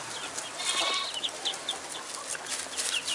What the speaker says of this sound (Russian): вот эти белые курочки-петушки, это порода легорн